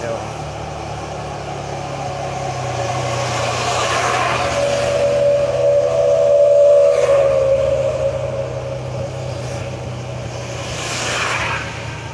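A Yamaha Jupiter Jet motorcycle climbs a steep, freshly paved mountain road toward Malino, Gowa. Its engine drones steadily with wind noise and swells toward the middle as it accelerates. No one speaks.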